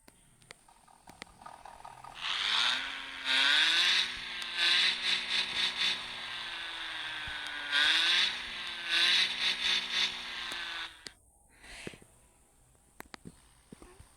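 Car engine in the driving game Car Parking, revving up in two rising bursts with a buzzy whine separated by a short drop, then cutting off into quiet clicks near the end, no talking.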